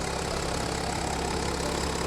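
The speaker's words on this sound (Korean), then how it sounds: "자 엔진 소리요 엔진 커버가 살짝은 흔들리고 있는데 그렇게 진동은 없다는 거예요" A 2015 BMW 750Ld xDrive with a 2,993 cc engine idles under an open hood, a steady, even hum held close and loud throughout with no talking.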